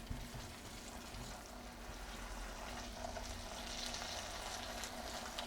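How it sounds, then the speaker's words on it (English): Kimchi and tuna fry in a pan with a soft, steady sizzle that stays quiet and even throughout, with no voices. "You kind of spread it evenly out so that way it can fry a little bit."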